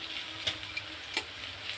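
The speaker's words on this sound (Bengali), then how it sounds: "আলু দিয়ে পেঁয়াজ দিয়ে কাঁচা লঙ্কা দিয়ে ভাজা হচ্ছে এটা" Potatoes frying with onion and green chilli in a home kitchen pan, giving a steady soft sizzle with a few brief louder crackles and clinks, heard alone.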